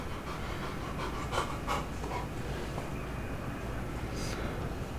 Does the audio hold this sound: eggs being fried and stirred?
no